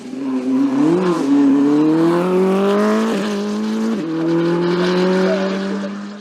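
A CG Turbo rally car on the Vuillafans-Echevannes 2022 rally stage roars loudly up through the revs, with the engine note dipping sharply at each gear change before climbing again.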